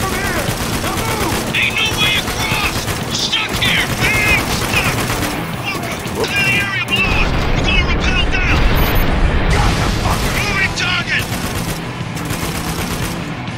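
Heavy, continuous gunfire in the shooter Spec Ops: The Line, rattling machine-gun bursts and booms filling the scene, with voices talking over the steady barrage.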